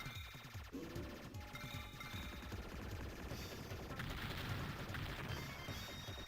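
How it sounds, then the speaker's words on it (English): Continuous rapid gunfire from a retro bullet hell shooter game sounds as dense crackling bursts and small blasts, heard alone at a constant, busy level with no talking. "That I can shoot them big bullets off."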